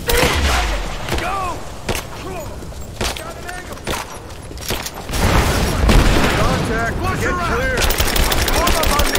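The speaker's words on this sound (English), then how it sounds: "Laying down covering fire! Let it go! Keep firing!" Video game gunfire from Rise of the Tomb Raider on Xbox One X: rapid bursts of shots and scattered single reports crack over a busy battle mix, growing denser in the second half, with voices shouting in the background.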